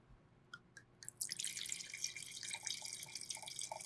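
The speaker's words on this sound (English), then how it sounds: "and pour a glass." Wine poured from an opened bottle into a glass at a sommelier's service: a few faint drips, then a steady close splashing trickle of liquid into the glass, with light clinks near the end.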